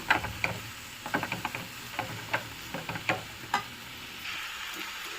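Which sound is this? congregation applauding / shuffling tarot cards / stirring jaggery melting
stirring jaggery melting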